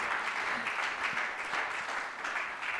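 Standing ovation at a plenary governance conference session, a broad steady roar of audience clapping heard from a distance, even and moderately quiet throughout.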